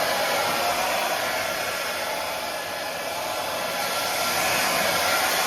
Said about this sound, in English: grab a hairdryer, hold it around 15 to 20 centimeters away and have it on a medium to high heat for 30 seconds